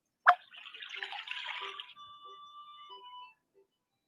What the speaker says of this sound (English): You have now filled the bucket completely using 5 jugs of water.